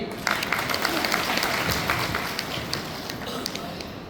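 Loud audience applause fills a hall at a health talk, dense steady clapping from a crowd with sharp individual claps standing out throughout.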